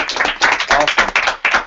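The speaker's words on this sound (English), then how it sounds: "Give yourselves a round of applause." A small group applauds in a lively, uneven round, with claps bunching into several rhythmic bursts close by over nearly two seconds.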